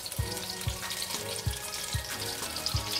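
Chicken and vegetable shashlik skewers fry in hot oil on a stovetop, giving a steady crackling sizzle broken by about six soft low thumps spaced roughly half a second apart, close and moderately loud with no voices.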